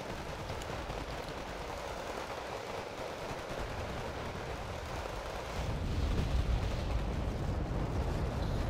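Artillery and gunfire in the real-time strategy game Wargame Red Dragon, a dense rumbling barrage of distant blasts and crackling shots that swells louder and deeper partway through, with no voices.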